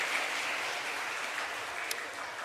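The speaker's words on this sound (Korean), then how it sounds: "얼마나 박수 한번 쳐야지 이렇게" Congregation applause at a Sunday church service, a steady wash of many hands clapping together at a moderate, slightly distant level with no talk over it.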